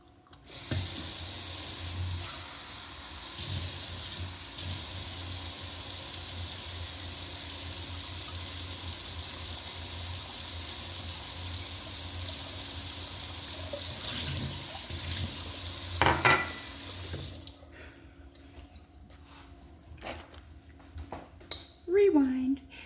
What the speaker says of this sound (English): let me get my water.